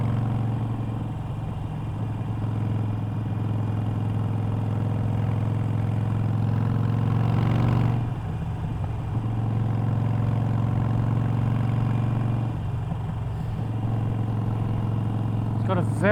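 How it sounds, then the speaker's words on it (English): A Harley-Davidson Iron 883 motorcycle engine idles steadily nearby with a deep, continuous low rumble and slight swells in level, running alone without talk. "I don't think your neighbours would appreciate you starting this bike up in the morning"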